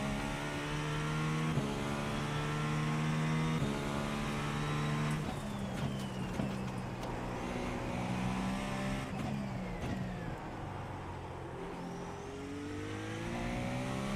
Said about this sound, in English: Definitely feel like I hear some turbo lag there